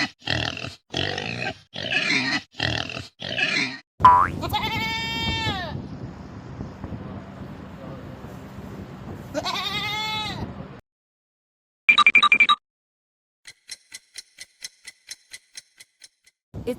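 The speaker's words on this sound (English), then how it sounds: "It's a goat." Goat bleating, several loud wavering bleats close up, with other choppy animal calls before and a short ticking sequence afterward.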